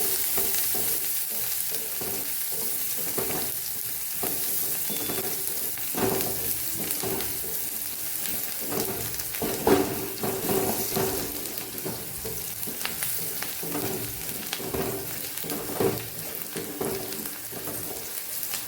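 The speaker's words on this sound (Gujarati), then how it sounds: "ડુંગળીનો કલર બદલાય ત્યાં સુધી આપણે ડુંગળીને સાતળવાની છે" Onions sizzle steadily in hot oil, a constant crackling hiss with occasional scraping as they are stirred, close up and without any talking.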